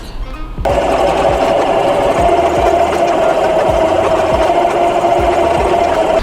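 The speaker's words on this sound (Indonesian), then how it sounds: "Nah, setelah itu kita jahit." A sewing machine runs at steady speed, stitching the fabric of a small bunny-shaped bag, its fast even whirring hum loud and close after a short quiet start, with no voices.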